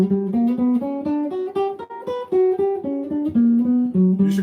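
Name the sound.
guitar arpeggio with half-step approach notes below chord tones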